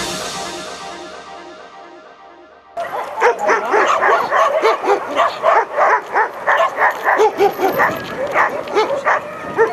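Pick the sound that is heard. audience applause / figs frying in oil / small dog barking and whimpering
small dog barking and whimpering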